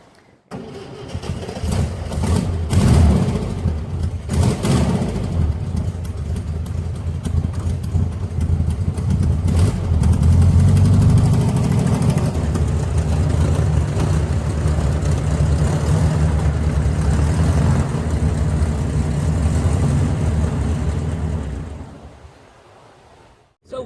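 A 1968 VW Fastback engine cranks and catches, then runs with an uneven, throaty air-cooled idle that settles into a steady rumble before cutting off near the end, close and loud with no talking.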